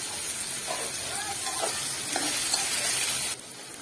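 Onions fry for a tempering in a pan beside a winter vegetable khichuri, making a soft, even hiss. A few faint clatters sound under it, and the sizzle drops off sharply just before the end.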